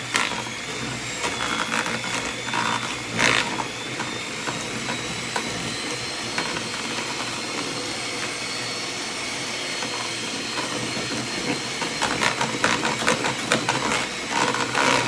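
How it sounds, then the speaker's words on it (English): An electric whisk beats cake batter in a home kitchen, a steady high whirring drone with brief rattling bursts as the beaters knock the bowl, close and continuous with no talk. "Because I'm going to whisk anyway."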